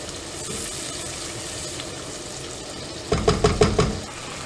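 Chopped onions sautéing in butter in a pot, a soft steady sizzle that ends in a quick run of five sharp, rhythmic scraping stirs near the close.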